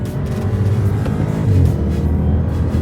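BMW 650i with an 8-speed ZF automatic accelerating hard, a loud steady close engine drone with a faint whine on top, no talking.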